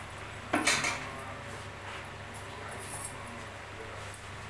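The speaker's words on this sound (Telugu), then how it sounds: "ఇలా అంతా మసాలా కలిసేలాగా కలుపుకోవాలి" A spoon clinks and scrapes against a pot as ground masala paste is stirred into mutton for village-style mutton kaliya, with a sharp knock near the start and quieter scraping after.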